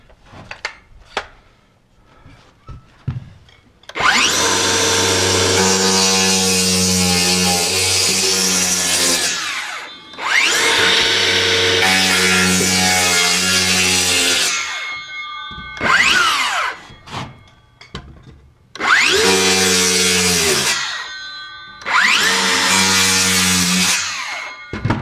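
A power saw rips through wood on a house construction site, several long loud cuts with the motor whining up and down, separated by short pauses and clattering handling noises.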